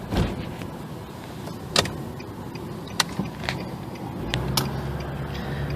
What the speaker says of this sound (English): Here's my freeway test drive.